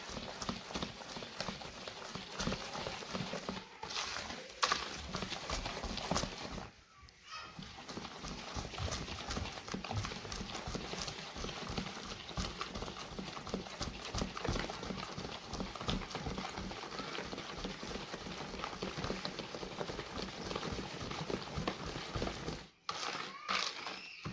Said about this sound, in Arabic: بعدين نفك عرق البيض، ضربة كويسة كده بالايد